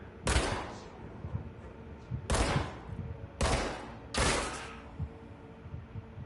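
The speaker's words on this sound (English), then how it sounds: "Can I just shoot this guy?" Gunfire from shooting an enemy in the game Control comes in four sharp, loud bursts spaced about two seconds apart, each cracking then decaying quickly.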